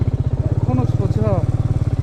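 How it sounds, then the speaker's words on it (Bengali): A motorcycle engine throbs close and steady as the rear wheel slips in mud on a dangerous, muddy island road, with a voice talking over the engine. "পেছনের চাকা কাদা লেগে গেছে, ও চাকা স্লিপ খেয়ে চলে যাচ্ছে।"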